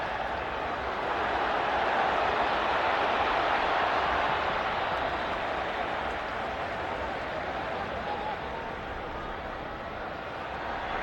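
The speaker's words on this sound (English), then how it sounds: "the crowd going nuts every time the whistle's blown for a foul on Barcelona" A big stadium crowd at a Barcelona versus New York Red Bulls friendly football match keeps up a steady, dense roar that swells slightly early on and then holds evenly throughout.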